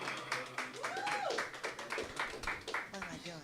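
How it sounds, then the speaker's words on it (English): An audience claps to welcome a guest onto a stage: a run of sharp, evenly spaced claps with lively talk and cheering over them throughout. "Welcome. Clap, clap, clap, clap, clap."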